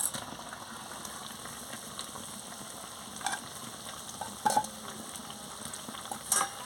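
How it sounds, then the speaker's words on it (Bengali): A pot of curry bubbles and sizzles steadily as soybean and gram-flour fritters are dropped in, with a few soft clinks of a utensil against the pan. "এবারে টকবক করে ফুটে গেছে এবারে বড়াটা দিয়ে দিচ্ছি"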